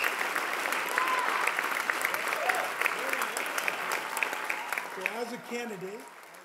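Applause at a press conference fills the room, a steady patter of many hands clapping at moderate distance, with a few voices and faint tonal sounds near the end.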